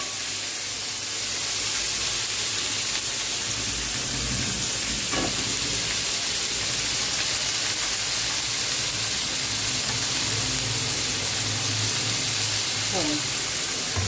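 Cluster beans and grated coconut sauté in hot oil, a steady broadband sizzle and hiss running throughout with a couple of faint utensil scrapes.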